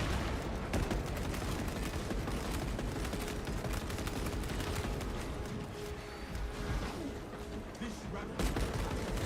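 Constant heavy gunfire and explosions roar through a battle in the game Space Marine, a dense, loud wall of shooting with no pauses and a voice faintly audible beneath it.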